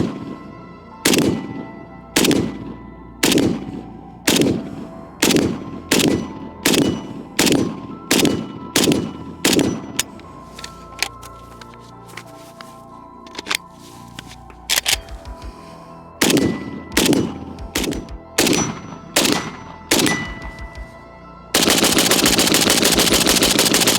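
A cheap AK rifle firing from a 74 magazine fitted with a Pod Arms follower. Loud, sharp single shots come in a steady series with brief pauses, ending in a sustained noisy hiss.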